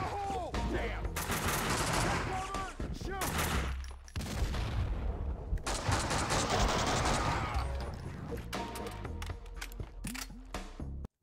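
Heavy gunfire from the video game Max Payne 2 rattles in dense bursts and rapid fusillades that fill the scene, loud and continuous, with game characters' voices shouting over the shooting.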